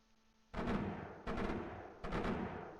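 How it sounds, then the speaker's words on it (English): Machine gun fire in the tower-defense game iBomber Defense, three separate bursts of rapid shots each lasting roughly half a second, loud and close, with ringing tails in between. "we are going to start with machine guns"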